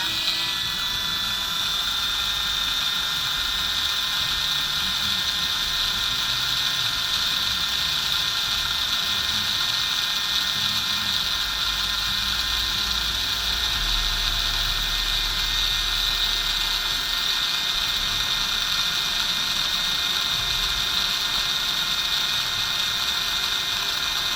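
An electric motor with newly installed brushes runs on a break-in box: a steady mechanical whir and whine continuously at close range, with faint ratcheting clicks and a low rumble underneath, and no talking.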